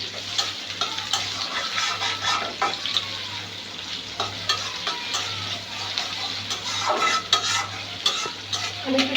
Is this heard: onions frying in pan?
yes